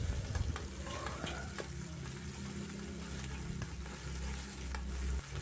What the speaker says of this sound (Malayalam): അപ്പോൾ ഇതൊന്ന് ചെറുതായിട്ട് കളറൊക്കെ മാറി വയന്ന് വരുന്നത് വരെ നമുക്കൊന്ന് വഴറ്റി കൊടുക്കാം.